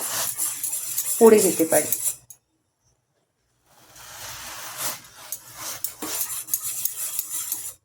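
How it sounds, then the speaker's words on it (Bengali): A spoon clinks and scrapes in a pan while fennel tea is stirred, a brief cluster of metallic taps, then a pause, then more soft stirring with a short spoken phrase over it. "দেখুন এভাবে একটু চামচ দিয়ে নাড়তে হবে"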